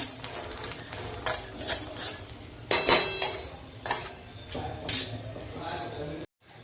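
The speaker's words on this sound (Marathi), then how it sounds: "आता त्यामध्ये चवीप्रमाणे मीठ टाकायचं। मिक्स करून" A spoon scrapes and clinks in a pan while mixing salted peanut chutney, giving several short, close metallic stirs and taps over a faint background sizzle.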